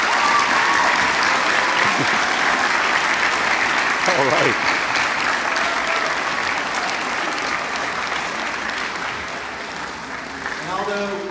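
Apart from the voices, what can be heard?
audience applause at school award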